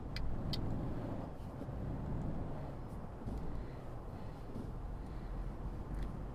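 A Mercedes Actros truck engine in Euro Truck Simulator 2 gives a low steady drone at faint level, with a few light clicks over it and no talking.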